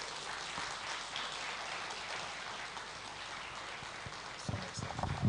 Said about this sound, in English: A round of applause for the board chairman of the Endeavor Nigeria Board of Directors, Mr. Atedo Peter Sai